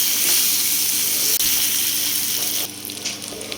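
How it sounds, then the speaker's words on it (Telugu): Grated raw mango frying and being stirred in a hot pan, a steady broadband sizzle that turns quieter and patchier near the end, with no voices. "ముందుగా సిద్ధం చేసుకున్న మామిడికాయ తురుము వేసుకొని బాగా కలుపుకోవాలండి. 2 నిమిషాలు ఫ్రై చేసుకుని పెట్టండి."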